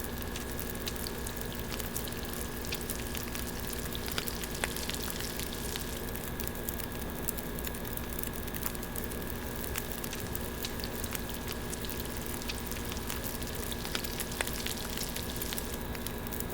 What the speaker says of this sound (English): let's get this fish cooked